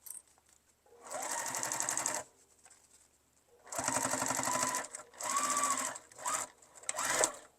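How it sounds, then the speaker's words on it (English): A sewing machine stitches the bottom seam of a fabric tote bag in several fast, steady bursts of needle clatter, separated by short quiet pauses, close and alone. "I'm just going to sew this bottom shut."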